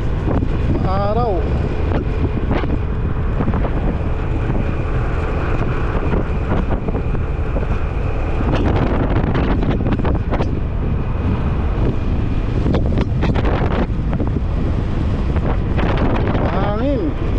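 Wind roars across the microphone without letup at Kenting Beach, a heavy low rumble with stronger gusts partway through and faint voices now and then.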